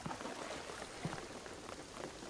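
Rain patters steadily in a Tomb Raider game scene, a faint continuous hiss of droplets with a few slightly louder splashes scattered through the short stretch.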